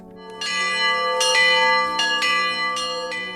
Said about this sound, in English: On the eve of the Feast of St. John, the bell rings announcing the start of the celebration.